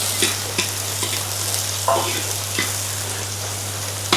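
Chopped small shallots hit hot oil in a pan for Kuttanad-style duck curry, giving a steady close sizzle with a constant hum beneath and a few sharp stirring scrapes and clinks spaced through it.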